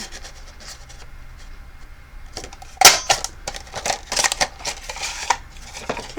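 Large Fiskars paper punch working through a paper tag, a sharp crunching snap followed by scattered clicks and rustles of handling, close and fairly quiet.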